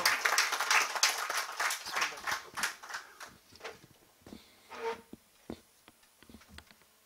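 Applause at a Punjabi poetry programme at Punjab House, Lahore, starting as brisk clustered clapping and thinning into scattered, fading claps, with a brief voice near the middle.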